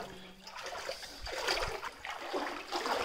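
Wading through knee-deep, very cold water inside a natural cave, with soft sloshing and trickling splashes that come and go in a quiet, echoing space.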